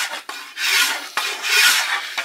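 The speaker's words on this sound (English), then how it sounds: "I put my file on an angle like this" Long, even rasping strokes of a file held at an angle along the edge of a wooden board bow, three broad loud passes separated by brief pauses, close and with no talking.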